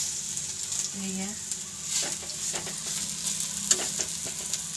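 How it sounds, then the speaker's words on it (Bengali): Potato and onion pakora batter with green chilli, cumin and coriander powder frying steadily in hot oil, a continuous close hiss and crackle with a brief low bubbling burst near the start, no talking. "আলু দিয়েছি পেঁয়াজ একদম ছোটো ছোটো করে কেটে আর কাঁচা লঙ্কা মশলা দিয়েছি জিরে গুঁড়ো ধনে গুঁড়ো দিয়ে একটা পকোড়া মতো করছি"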